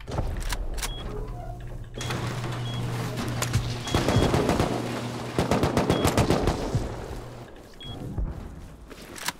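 Gunfire in the survival video game Rust, rapid bursts of automatic shots cracking repeatedly over a low humming background, loud and close, with brief pauses between volleys.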